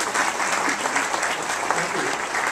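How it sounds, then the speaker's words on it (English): Dense, steady applause from a summit audience fills the room, many hands clapping at once without a break, loud and close, with no voices over it. "let's give those folks a nice round of applause"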